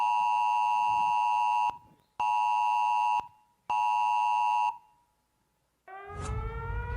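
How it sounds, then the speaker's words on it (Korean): An emergency earthquake disaster alert tone on a phone, three loud, steady electronic beeps of about a second each with short gaps, then a rising warbling siren-like tone starting near the end. "기상청에서 주민들에게 지진 발생 긴급 재난 문자를 발송하였습니다."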